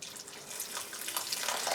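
Water runs from a tap in a soft, steady hiss and splash, fairly quiet and close, with no talking.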